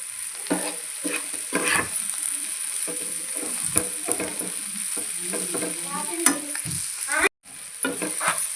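Goat tripe curry with tender tamarind leaves frying in a pan, village style, a steady sizzle under frequent scraping and clinking stirs of a spoon against the pan, close by with no talk.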